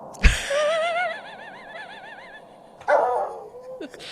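A dog in a room barks sharply once, then lets out wavering whines and yips before a second, rougher bark, all close and loud over a quiet background.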